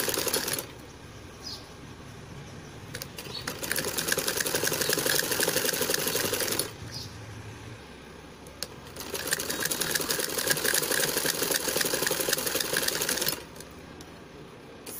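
A sewing machine stitches piping onto a baby frock, running in two long, fast, steady bursts with brief stops between them, close and loud.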